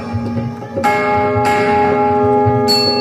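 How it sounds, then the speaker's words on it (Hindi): A large temple bell is struck in a Hindu devotional setting, three loud metallic strikes with long ringing overtones that sustain and overlap, following a softer chime at the start. "ये वाला घंटा एक बार और बजाओ।"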